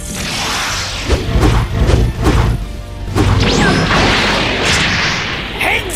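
The Holy Light Grenade goes off in a Dragon Ball game match, a dense, sustained crashing blast with repeated heavy thuds, debris clatter and whooshing sweeps rolling on for several seconds.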